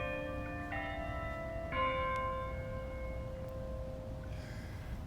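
Church bells ring with sustained, overlapping tones over a steady background hum, fairly faint and distant, several strikes layering and fading.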